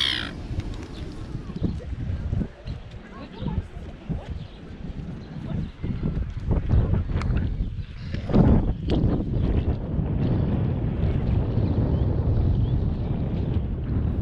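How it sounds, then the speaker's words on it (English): Blustery wind by the water at a waterside picnic spot in Christchurch, New Zealand, a steady buffeting rumble against the microphone that grows stronger in the second half, with faint crow caws and some nearby talk. "As you can hear, it was pretty windy down by the water"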